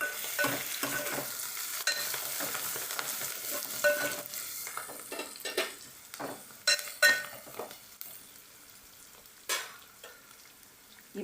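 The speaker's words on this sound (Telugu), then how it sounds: "మూత తెరిచి చూద్దామండి ఎంతవరకు ఉల్లిపాయ వేగిందో" Onions frying in a pan and stirred, soft steady sizzle broken by scraping and light clinks of a utensil against metal, fairly quiet with no talking.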